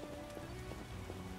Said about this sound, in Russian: Грёбаный дождь